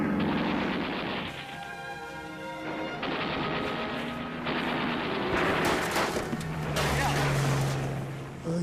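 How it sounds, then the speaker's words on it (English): Wartime machine gun fire and explosions, dense crackling bursts and crashes that blend with engine drone and a speaking voice across the whole stretch. "machine gun."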